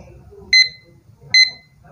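A digital study timer gives two short, bright electronic beep bursts about a second apart, clear and close over faint low background noise.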